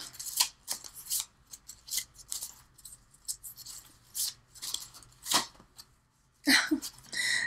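Tarot cards are shuffled by hand in quick, crisp riffling bursts separated by short pauses, close and fairly quiet.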